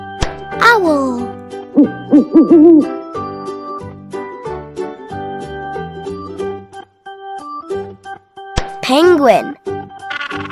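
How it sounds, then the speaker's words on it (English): A cartoon owl hoots in a bright toddler animal-sounds song, with several short hooting calls between sung and spoken words from a voice. "Owl."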